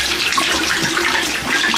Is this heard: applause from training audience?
no